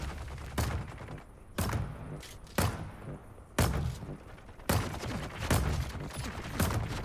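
Heavy gunner firing in the video game Dune: Awakening: loud, close gunshots in a slow irregular series of about eight single blasts, each with a sharp crack and a short decay.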